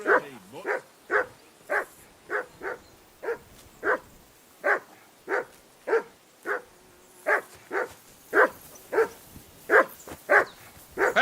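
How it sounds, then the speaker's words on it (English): A dog in the medieval game Kingdom Come Deliverance II barks over and over, about twenty sharp, evenly spaced barks at moderate volume, with nothing else heard between them. "That barking was a pain in the ass."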